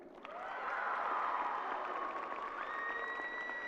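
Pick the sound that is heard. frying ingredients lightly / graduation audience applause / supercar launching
graduation audience applause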